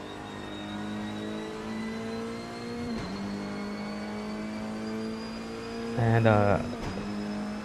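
A Skoda Octavia 2008 Cup Car engine drones steadily in Assetto Corsa, holding a sustained mid-pitched note, dipping briefly at a gear change around the middle, then a short louder rev burst near the end; a voice speaks briefly.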